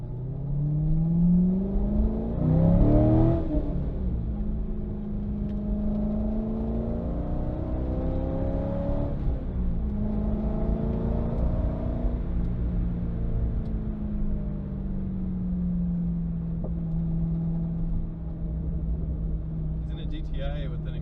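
Volkswagen GTI fitted with an aftermarket exhaust driving on a mountain road at night, engine droning and revving through rising and falling gear pulls, heard from inside another car while people talk over it.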